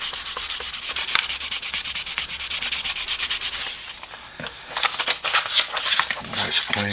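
A metal tool being hand-sanded with 1200 grit sandpaper, a steady close scratchy rubbing that runs continuously, briefly easing before resuming in quicker strokes.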